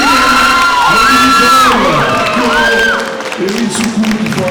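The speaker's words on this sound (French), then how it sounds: "On peut applaudir Lily Boy aussi." A cosplay contest audience cheers, whoops and shouts loudly at once, with some clapping underneath, the crowd noise easing slightly after a few seconds.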